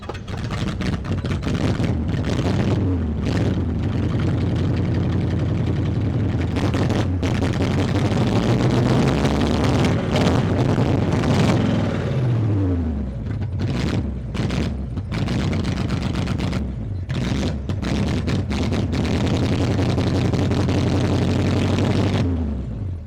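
GMC truck engine idling after sitting unused for 15 years, a continuous loud rumble with its pitch rising and falling as it revs up and settles back, close and heard alone.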